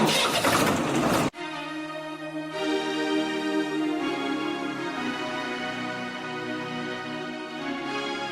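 Tractor engine in a Haryanvi rural setting: a loud burst of starter noise cuts off and the diesel catches, settling into a steady, close, throbbing idle that continues alone without talk.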